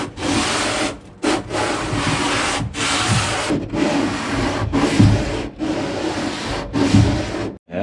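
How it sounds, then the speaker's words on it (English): Sanding down a wooden edge inside a boat's interior: long, loud, rasping strokes, close by, broken by short pauses between passes, with no voices. "Just sand this edge off."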